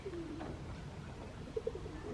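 Racing pigeons coo softly on a morning at the loft, with a few low, rounded calls rising over a steady outdoor background.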